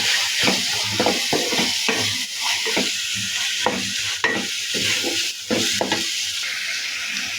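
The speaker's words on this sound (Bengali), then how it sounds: "আদা বাটাটা দিয়ে দিই, দিয়ে লাড়া দিই," Dried fish and ginger paste stirred in sizzling oil in a pan, a loud steady frying hiss broken by repeated scraping strokes of the spoon, close up with no speech.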